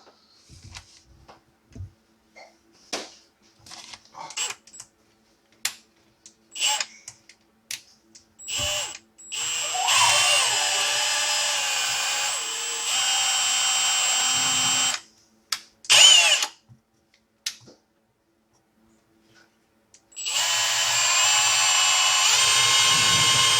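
A power drill whirs in several sustained high-pitched bursts, loud and close, separated by short clicks, taps and pauses.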